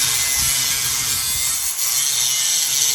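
A saw cuts through a metal piece for a trident. The rasping stroke noise is steady and close-miked, with low knocks early on and no talk.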